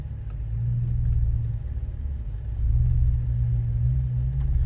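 A Jeep crawls in second gear without throttle up a rocky trail, its engine a low, steady rumble that swells and eases gently, close and without revving.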